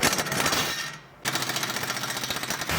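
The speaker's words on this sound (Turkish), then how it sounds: "Amortisör ve taşıyıcının sabitlendiği cıvataları sökeceğiz." Bolts holding the shock absorber to the wheel carrier of a Fiat are undone with a loud, rapidly rattling tool. It runs in two long bursts separated by a brief pause near the middle.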